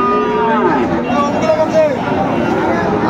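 Friesian and crossbred bull calves low at a busy cattle market in Raniganj, Dinajpur, their harmonic moos rising and falling over a steady babble of crowd voices and nearby talk.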